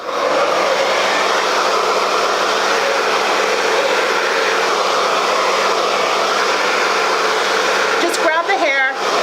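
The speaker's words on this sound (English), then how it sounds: "create a little bit of texture here just by scrunching my hair while I'm using my diffuser" A handheld hair dryer fitted with a diffuser blows a steady, loud airflow while hair is scrunched for beachy waves, the whoosh continuous and close throughout, with a brief shift in tone near the end.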